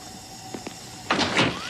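In a cartoon, a character tinkers with a door: two small taps, then a short burst of scraping, rattling mechanical noise over a steady background hum.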